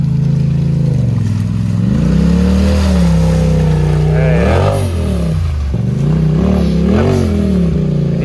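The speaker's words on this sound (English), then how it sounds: "That blow off valve now." A Can-Am Maverick X3 turbo revs up and lets off on a trail, with the blow-off valve hissing between throttle swings. The engine drones loud and close and rises and falls in pitch, with voices talking under it.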